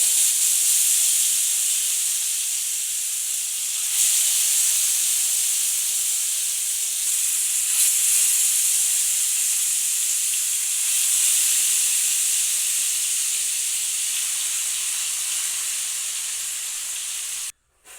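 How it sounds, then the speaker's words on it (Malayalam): Continuous loud sizzling and hissing of fish frying in hot coconut oil, steady throughout with slight swells, close up and without any voices. "മീഡിയം തീയിൽ വെച്ചിട്ട് വറുക്കുകയാണ് കേട്ടോ. ഗൈസ്, മീനിടാൻ പോവാണ്."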